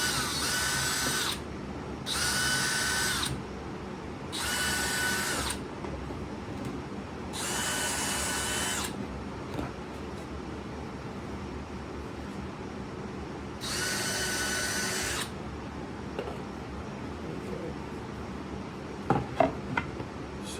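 Power drill driving screws into a countersunk epoxy resin mold build, five separate bursts of whirring a second or two each with pauses between, close and moderately loud, followed by faint handling clatter.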